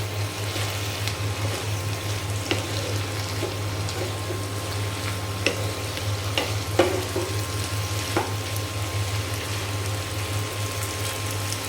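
Onion stalks fry in oil while being stirred, a steady even sizzle over a low constant hum, punctuated by occasional soft clicks and knocks of the stirring spoon.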